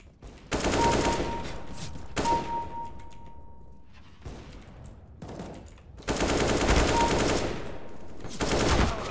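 Rapid bursts of automatic gunfire in a video game rattle loudly in several long volleys, separated by brief quieter gaps.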